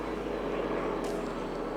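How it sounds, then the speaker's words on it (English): A tour helicopter drones overhead at Broadway at the Beach in South Carolina, a steady, fairly loud engine hum and buzz with no voices over it. "they're all doing helicopter tours. You hear them buzzing around every now and again"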